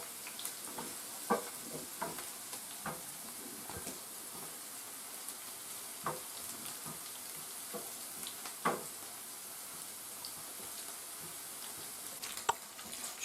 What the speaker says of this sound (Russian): Немножко помешиваем, чтобы главное, чтобы лук не подгорел, а стал просто как золотистым.